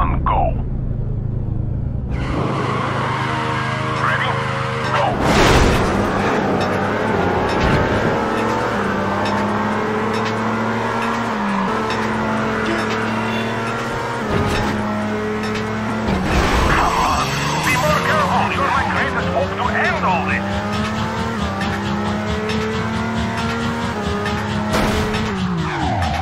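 Race cars in Midnight Club 2 rev and launch off the start line, engines roaring loud and steady with tire squeal and skids, after a brief quiet countdown, with a voice speaking over the rumble.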